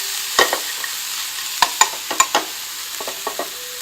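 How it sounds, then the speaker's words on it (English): Dumpling filling is lightly seared in a pan, with a soft underlying sizzle and repeated sharp scraping and stirring clicks of a utensil, close up and without talk. "you can just add your filling to the pan, just lightly sear it"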